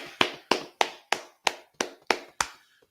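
Eight sharp, evenly spaced claps ring out in a steady rhythm at a brotherhood class gathering, loud and close with no talking over them, fading after the last beat.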